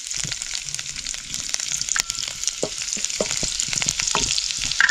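Cumin, mustard seeds, ajwain and garlic fry in hot oil, giving a steady, close sizzle with scattered crackles and popping seeds and a few light stirring knocks. The sound runs throughout, with no talking.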